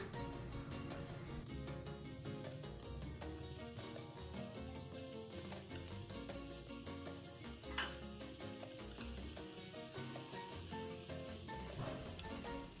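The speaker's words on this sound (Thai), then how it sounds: "แล้วก็ใส่กะทิลงไป เพื่อที่เราจะ ผัดพริกแกงนะคะ" Green curry paste and coconut milk stir-fried in a pan, giving a steady sizzle with scraping and clinking of a utensil against the metal, close and continuous with no talking.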